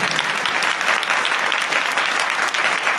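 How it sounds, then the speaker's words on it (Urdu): A Sunday church congregation claps loudly and vigorously, a dense, continuous burst of applause with no voices rising above it. "تالیاں بجائے زور دار"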